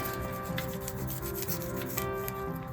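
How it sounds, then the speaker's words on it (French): A tool scrapes compacted potting soil in an African violet pot, a close, continuous rasping and rubbing over steady background hum, with no talking. "J'essaie de voir si je peux gratter un peu comme ça."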